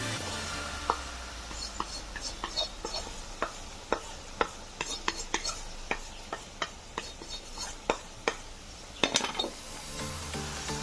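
Okra and potato curry gets stirred after gram flour is added. A spoon taps and clinks against the pan in an irregular rhythm over a faint sizzle, close and moderately quiet.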